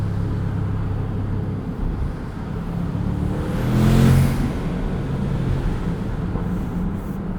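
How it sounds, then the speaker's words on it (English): A 2023 Bentley Continental GTC V8 rumbles steadily, swelling briefly into a louder throaty exhaust surge with a rising turbo whoosh before settling back to a low idle-like drone. "Some burbles from the exhaust, turbo sounds on throttle."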